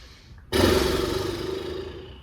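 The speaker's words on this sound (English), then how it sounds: "We'll do 3 horse breaths." A person does a chair yoga horse breath, blowing one long, loud exhale through fluttering lips. It starts abruptly with a rough, buzzing rush and fades slowly over about two seconds, up close and alone.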